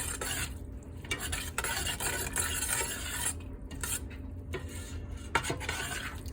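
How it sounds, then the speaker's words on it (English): A spoon stirs coconut milk into chickpeas in a pot, with steady scraping and clinking strokes close up and a faint low hum beneath, and no talking. "And we stir that up"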